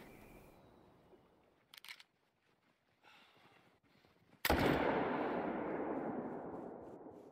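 A hunting rifle fires once in the video game theHunter: Call of the Wild, during a grizzly hunt in the Yukon. One sharp, loud shot breaks a quiet stretch and rolls off into a long, fading echo.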